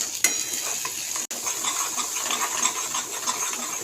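A spoon scrapes and stirs chili powder, onion-garlic masala, chicken masala and turmeric through a sizzling pan, steady frying crackle throughout with a brief dropout partway through.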